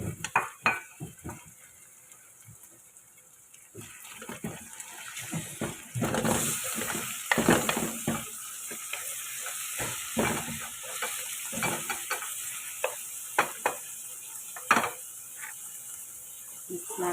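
Chicken pieces frying with onion in a pan, a sharp sizzle rising midway, joined by repeated scraping stirs and clanks of a utensil against the pan, close and fairly loud, with brief talk.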